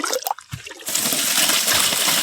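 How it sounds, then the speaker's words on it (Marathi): Water gushing from a farm motor pump pipe, a loud steady rushing flow that starts abruptly after a brief moment of quieter sounds and continues without break. "तर इकडं बघा इकडं पाणी येईल."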